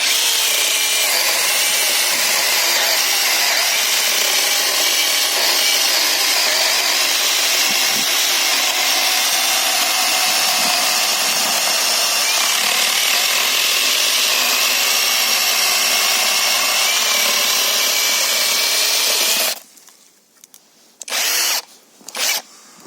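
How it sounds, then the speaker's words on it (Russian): A ProCraft cordless chain saw cuts through a piece of wood about 14 to 15 cm thick. Its motor whines loud and continuous for about twenty seconds, then cuts off, followed by a few short revs. "Сейчас робимо один різ цей пилкою і той."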